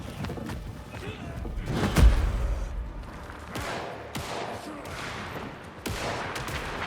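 Rapid gunfire and a heavy blast from the video game Alan Wake 2, loud bursts layered over a dense, rumbling game soundtrack.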